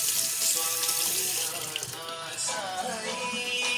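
Boiled eggs are rinsed under a running kitchen tap, with a steady loud gush of water splashing close by and shifting slightly as the eggs are moved in the stream.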